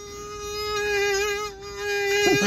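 A kazoo voices a whining mosquito buzz, a steady nasal drone that wavers slightly in pitch and dips briefly before swelling again, close and alone without talk; a human voice is imitating the insect.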